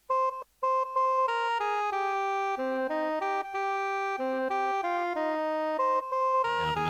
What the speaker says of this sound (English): if I were to play the melody in 12-tone equal temperament